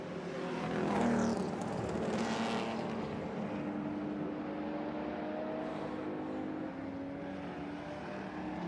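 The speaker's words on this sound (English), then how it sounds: "So Saluski there being let past." A classic DTM race car at the Red Bull Ring roars past loudly early on, then fades into a steady distant engine drone with faint shifting tones.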